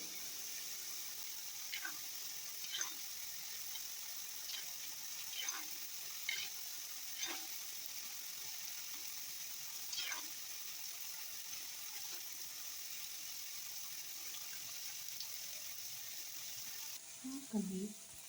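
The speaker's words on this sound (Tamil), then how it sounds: "இதே மாதிரி நம்ம எல்லாத்தையுமே பொரிச்சு எடுத்துக்கலாம்" Bread pieces for a Salem-style bread roast frying in oil, a continuous soft sizzle with occasional stirring scrapes and faint clinks, fairly quiet and without speech.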